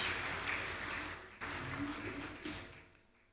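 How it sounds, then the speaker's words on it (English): An audience at a corporate board and management retreat gives a round of applause for a CEO, a moderate steady patter of clapping that briefly cuts out and resumes, then gradually fades. "can we give him another round of applause and appreciate him?"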